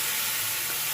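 Dried fish hits frying garlic and onion paste in hot oil, a brief, loud, dense sizzle and hiss for dried fish curry.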